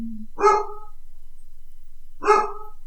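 A dog barks twice, each a short burst of a few quick barks about two seconds apart, fairly close and clear against a quiet background.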